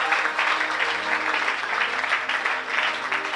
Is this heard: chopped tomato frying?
no